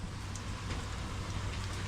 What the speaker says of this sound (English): It's raining. It ain't raining hard.